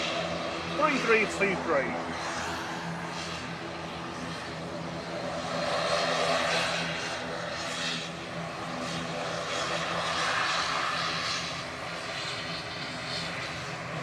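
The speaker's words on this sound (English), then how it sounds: "Oh, good, the ATR's going first." An ATR turboprop airliner heading to Dublin runs its engines at Manchester Airport, a steady propeller drone that swells in the middle and stays distant under people talking nearby.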